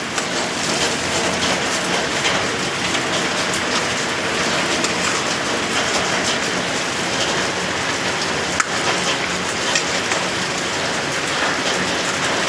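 Heavy rain drums on a metal sheet roof, a loud, constant clattering roar that holds steady throughout, with no one speaking.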